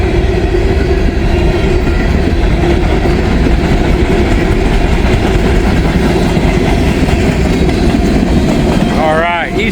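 A Georgia Power and Light coal train of railroad cars rolls past loudly and close in a steady, continuous rumble with clickety-clack, ending with a brief high squeal.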